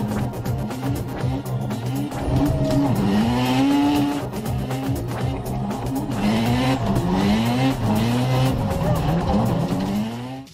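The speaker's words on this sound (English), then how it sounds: "The tractor made such steep turns that even some racers would be jealous." An upgraded 225-horsepower tractor roars through steep turns, its engine revving and rising and falling in pitch with tire noise, loud and close, over a faint background voice.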